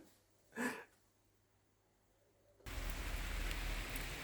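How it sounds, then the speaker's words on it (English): Steady rain outdoors in a garden with tomato plants, a broad hiss that starts abruptly after a quiet indoor stretch with one brief bump, continuing evenly and fairly close. "I'll take you outside and show you the rain"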